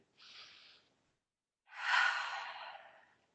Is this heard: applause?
no